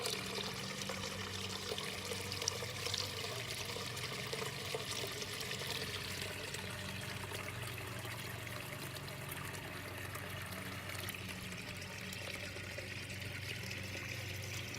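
Water from a filter pouring back into an outdoor container pond, a steady continuous trickling splash with no breaks, moderately faint and close.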